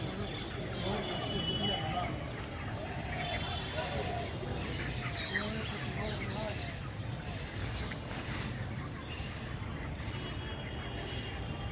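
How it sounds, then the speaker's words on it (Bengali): A crowd of poultry chickens clucking and murmuring in a busy poultry farm shed, with a voice talking over the steady, dense chatter. "এগুলো হচ্ছে পোলট্রি মুরগি"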